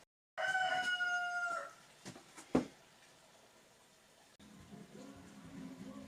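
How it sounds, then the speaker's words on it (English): A rooster crows once, loud and close, with a long wavering call, followed by quieter background noise and a few faint knocks. "Excuse the cockerel."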